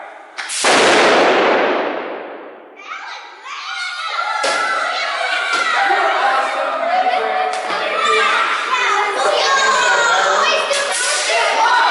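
A single loud gun blast from a tour-group demonstration booms out and decays over a couple of seconds, followed by a lingering crowd of voices with children chattering and calling nearby.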